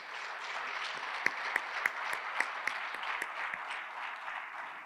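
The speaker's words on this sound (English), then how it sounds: "Let's give them all a round of applause" Audience applause at a public schools state-of-the-schools event, a steady, moderately faint wash of clapping from a large room with a few sharper individual claps standing out.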